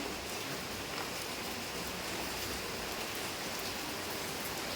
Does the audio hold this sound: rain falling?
yes